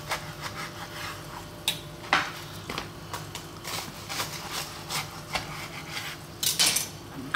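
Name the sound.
knife cutting open chorizo cheese toasted sandwiches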